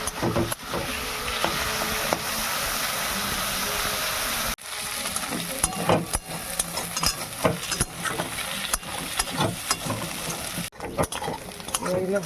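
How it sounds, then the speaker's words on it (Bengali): Prawns rubbed with turmeric and salt frying in hot oil, a steady close sizzle broken by a sudden cut and clattering stirs, with a brief pause near the end. "একটু হলুদ নুন মাখিয়ে মাছটাকে একটু ভেজে নিই"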